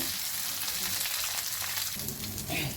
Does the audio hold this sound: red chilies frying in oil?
yes